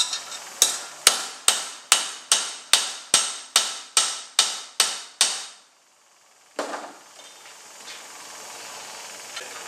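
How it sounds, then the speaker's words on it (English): Hammer blows flatten a round steel bar for a knife: a dozen sharp, loud metallic strikes in an even rhythm, then a pause and a softer clank with a faint ringing tail. "you can see the entire process of flattening that round steel bar"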